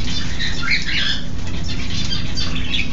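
A pet bird flaps its wings in loud, fluttering bursts close by, with a few faint chirps mixed in and no talking.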